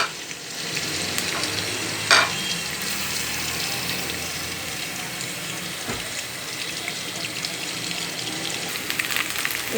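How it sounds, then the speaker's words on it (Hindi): Garlic and ginger paste frying in oil in a wok, giving a steady, close hiss of sizzling with faint stirring scrapes and a couple of brief clinks, continuous throughout with no talking. "इसकी स्मेल ख़त्म करने के लिए इसको हल्का सा ब्राउन करेंगे।"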